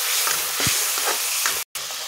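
Spices fry with a splash of hot water in a pan for an Assamese mutton dish, a loud continuous sizzle with stirring scrapes, briefly cut off near the end.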